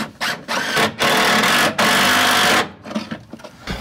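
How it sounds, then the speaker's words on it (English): A power driver sinking screws into the wall of a van being converted: several loud whirring bursts, one long, separated by short pauses, up close. "I guess I'll get some screws. We'll go into the wall."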